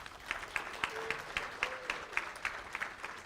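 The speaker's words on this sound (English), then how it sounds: "Another round of applause to these people." An audience at an Ontario First Nations health forum gives a thin round of applause, with a few hands clapping in an even, quick rhythm, faint and somewhat distant.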